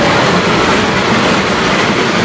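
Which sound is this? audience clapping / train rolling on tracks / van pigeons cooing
train rolling on tracks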